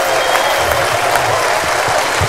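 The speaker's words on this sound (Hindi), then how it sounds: "चलिए तो जोरदार तालियों से स्वागत करिए पिंकू पांडे का" A loud, dense burst of audience clapping welcomes Pinku Pandey, continuous and close throughout.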